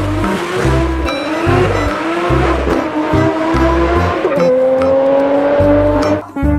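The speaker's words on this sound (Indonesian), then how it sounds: "Yang ini ada mobil balap." A toy race car sound effect, loud and close: a steady revving engine whine with tire squeals and screeches, continuous throughout and ending in a brief dip.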